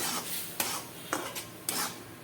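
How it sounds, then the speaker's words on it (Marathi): Mango pulp being stirred in a kadai for a minute or two, with soft scraping rubs and a few sharper strokes of the spoon against the metal, moderately close and quiet. "हा गर एक ते दोन मिनिट असा मिक्स करून घ्यायचा आहे कढईमध्ये"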